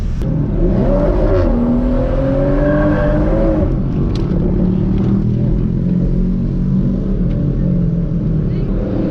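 A BMW M240i fitted with a limited-slip differential drives and accelerates, its engine note rising and falling loudly at close range, with a steady road rumble underneath.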